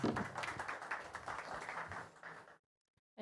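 An audience at an Alpha Wolves Warsaw fireside chat event gives a round of applause, a moderate wash of claps that cuts off abruptly into silence.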